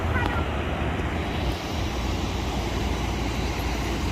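Steady broadband roar of an Airbus A320 airliner, heard from inside the cabin as a continuous loud engine and airflow rumble with no breaks.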